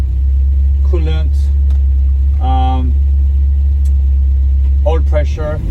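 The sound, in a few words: Volvo 1800 ES engine idling after cold start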